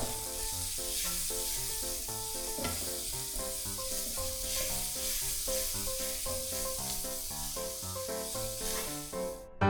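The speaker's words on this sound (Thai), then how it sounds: "เดี๋ยวเราก็ใส่หัวหอมสับลงไปนะครับ ผัดให้หัวหอมเนี่ยมีกลิ่นหอมนะครับ" Chopped onion and bacon stir-fried in a hot pan give a steady, close sizzle and hiss throughout, with stirring noises and a bed of background music beneath.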